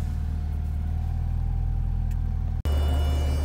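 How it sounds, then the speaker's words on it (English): Radiator cooling fans on a Porsche 944 that sat unused for 14 years, a steady whooshing drone with low rumble; the tone abruptly shifts louder and fuller near the end as the fans kick on. "the fans just kicked on"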